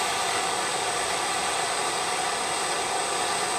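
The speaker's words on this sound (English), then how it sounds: "we introduce the flame slowly" Jeweller's soldering torch heating a white gold ring, a steady close hissing roar of flame that holds constant and unbroken the whole time.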